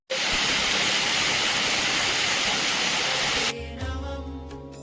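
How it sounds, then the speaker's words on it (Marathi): A roadside waterfall in the Wai ghat pours with a loud, steady broadband rush that fills the air for several seconds, then drops away abruptly to quieter surroundings. "घाटात जाताना आपल्याला धबधबा लागलेला आहे"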